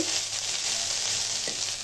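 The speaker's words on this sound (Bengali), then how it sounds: "সঙ্গে সঙ্গে রান্না করে নিয়ে আমি ভাজাভাজি করছি।" Freshly cooked rice with egg is stir-fried in a hot pan, giving a steady, close sizzle with a brief clatter of stirring near the end.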